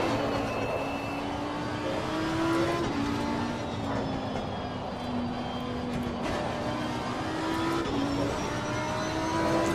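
A GT3 race car engine in Assetto Corsa Competizione drones steadily with shifting pitch as the throttle is feathered during a hotlap, the tone rising and dipping in a continuous mid-loud whine.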